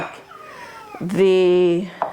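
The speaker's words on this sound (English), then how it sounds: "my kitty cat wants out" A single drawn-out cat meow rises clearly and close, preceded by soft household noise and a brief clatter.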